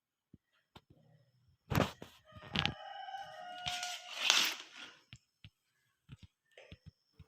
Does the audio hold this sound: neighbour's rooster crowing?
yes